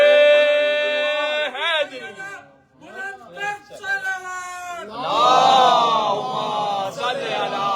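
Crowd at a Shia majlis for Ayam-e-Fatimiya chanting slogans in unison, loud rhythmic call-and-response voices rising together after a preacher's speech.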